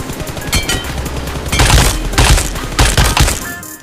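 Rapid gunfire bursts from a crouched player in the mobile game PUBG Mobile, several dense volleys of shots clattering in quick succession, loud and close, with short pauses between bursts.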